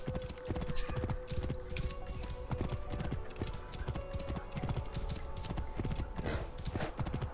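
Horse hooves clip-clop steadily in Assassin's Creed Origins, a fast, rhythmic run of close, loud hoofbeats over a continuous game backdrop with a brief whinny.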